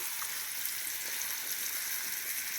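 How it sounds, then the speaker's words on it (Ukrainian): Steady, close sizzling of onion and carrot frying in oil in a hot pan, a continuous bright crackle with no voices. "Вже в мене цибулька з морковкою жариться."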